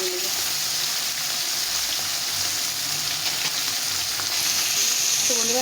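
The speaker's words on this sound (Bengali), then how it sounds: "এইভাবে সবগুলো মাছ একসঙ্গে ভালোভাবে ভেজে নেব।" Tangra fish frying in oil in a pan, a steady, dense sizzle holding loud and continuous throughout with no pauses.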